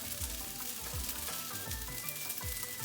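Noodles sizzle and crackle steadily in butter in a hot pan, with dense popping and occasional scraping stirs underneath.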